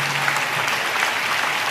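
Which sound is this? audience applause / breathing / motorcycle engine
audience applause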